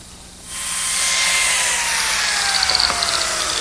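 A biscuit joiner spins up with a rising whine and cuts slots into wood to strengthen a miter joint, a loud, close, sustained motor roar.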